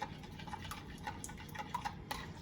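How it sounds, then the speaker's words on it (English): Eggs are whisked with a fork in a bowl, making faint, quick, irregular clinks and taps against the bowl in a quiet kitchen. "You just want to whisk it with a fork or a whisk until it's completely blended"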